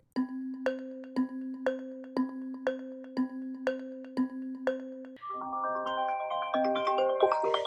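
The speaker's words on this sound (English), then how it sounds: "My phone was ringing really loud." A phone ringtone rings loudly, first as a steady run of evenly spaced electronic tones, then shifting into a busier melodic chime pattern.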